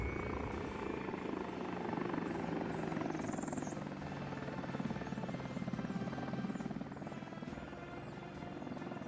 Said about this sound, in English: Alright, there's the helicopter right there.